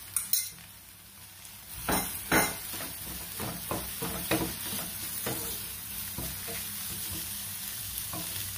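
Vegetables with dry fried garlic stir-fried in a pan without oil, with a spatula scraping and clinking against the pan in irregular strokes over a soft, steady sizzle.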